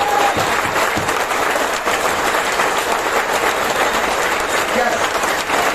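A large seminar audience claps strongly and steadily for a mentor, with a thick, continuous wash of applause from many hands filling the hall.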